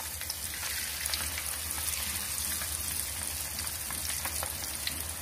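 Fish sizzling as it fries in hot oil in a pan, a steady dense crackle and hiss running throughout with scattered sharper pops, close and moderately loud, with no talking.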